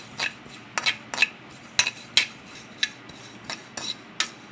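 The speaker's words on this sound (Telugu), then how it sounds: "ఈ విధంగా మనం కలుపుకుంటూ దోరగా వేయించుకోవాలి" Sesame seeds stirred in a pan as they dry-roast for a mango and coconut chutney, a utensil scraping and knocking against the metal in a steady series of sharp strokes, close and alone with no voices.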